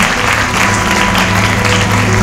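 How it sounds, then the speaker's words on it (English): Audience applause at the India Today Body Rocks event in 2015, a dense, loud, continuous wash of clapping from a large crowd in a hall, sustained evenly throughout. "Can we have a warm round of applause for Dr."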